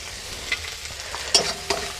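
Chopped tomato drops into a pan of frying chilli, turmeric and spices for mushroom masala, giving a steady sizzle with a few sharp hissing bursts and scrapes as it is stirred, close and with no voices.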